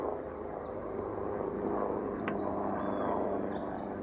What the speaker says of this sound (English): There's a huge helicopter.